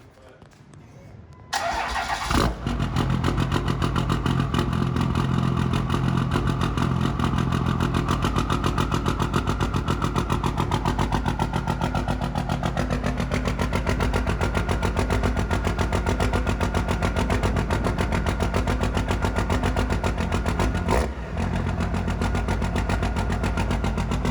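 Cummins diesel engine in a regular cab short bed pickup truck cranks and fires after a brief quiet moment, then settles into a loud, steady, rough idle that runs on with a short dip near the end.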